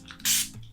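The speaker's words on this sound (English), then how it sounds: "We are gonna get started with the Illuminating Prime and Fine Catrice Glowy Spray" A short spray burst from a small purple bottle of Catrice Illuminating Prime and Fine glowy face mist: one brief hissing puff, close and clear, with no speech.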